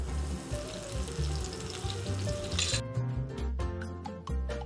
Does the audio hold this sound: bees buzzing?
no